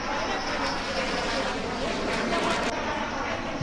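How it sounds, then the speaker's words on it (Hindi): A Rafale fighter jet coming in to land at Ambala, heard as a steady, dense roar that holds at an even, loud level throughout. "राफेल ने एंट्री मारी थी हिंदुस्तान के आसमान में, अंबाला में जब लैंड करने जा रहा था"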